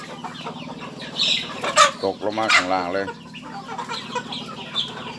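Chickens cluck and squawk near a field edge in the morning, a few loud bursts in the middle against steady low background noise, with someone speaking briefly.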